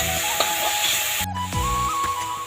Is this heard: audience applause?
no